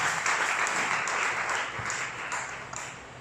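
A church congregation breaks into steady, sustained applause, a dense wash of clapping that carries on evenly throughout without anyone speaking.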